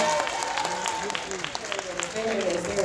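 Scattered audience clapping in a workshop room, a brief smattering of claps over a murmuring crowd while a voice keeps talking.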